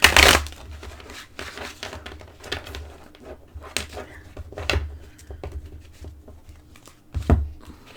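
Oracle cards being shuffled and riffled in irregular bursts, with crisp slaps and rustles close up, a louder flurry at the start and near the end.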